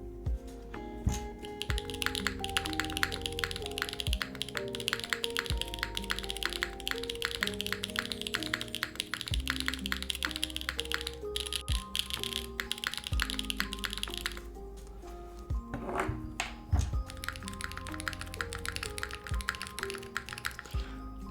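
Custom Aeroboard70 mechanical keyboard being typed on, a dense, steady stream of crisp close keystroke clacks with occasional heavier thocks, likely from the spacebar.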